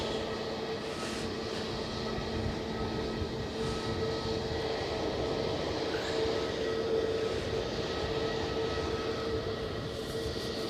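Steady, continuous roar of an EasyJet airliner at Edinburgh Airport, heard from a distance with even loudness throughout and no voices.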